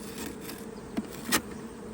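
Honey bees from a late-season swarm hum steadily in a hive, a continuous close buzz broken by a couple of brief knocks or rustles.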